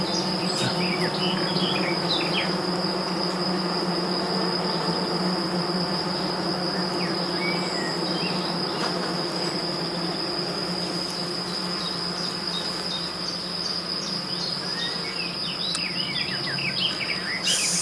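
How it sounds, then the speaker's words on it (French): An open hive of a black honeybee colony gives a dense, continuous buzz of many bees, steady throughout, with a faint high tone and occasional louder individual bees flying near. "C'est une abeille qui est en train de naître ici."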